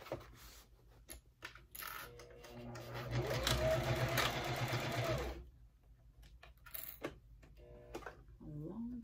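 A sewing machine stitching the side seam of a fabric bag, a steady mechanical whir rising for a few seconds in the middle, with quiet handling clicks and rustles before and after.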